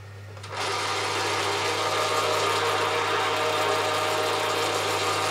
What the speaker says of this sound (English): Gears are a little bit noisy, but I expect that's because my gears are noisy.